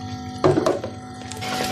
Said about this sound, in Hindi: हाफ गिलास के करीब पानी इसमें शामिल करेंगे।